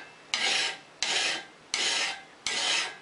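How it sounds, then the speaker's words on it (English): Steel card scraper held in a vise being draw filed, four even rasping strokes about every 0.7 seconds, close and clear with no talk. "put this scraper in the vise and draw file it like this."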